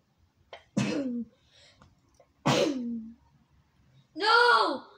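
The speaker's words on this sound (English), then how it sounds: "the power of sneezing pushes everything down." Three sharp sneezes come in quick succession, close and loud against a quiet room, with a brief voiced sound between them.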